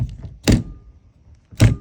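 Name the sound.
VW windscreen wiper arm clacking against the car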